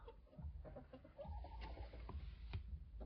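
Several hens in a farmyard coop clustered around a single nest, soft low clucks and murmurs overlapping at close range, fairly quiet with a faint background hum.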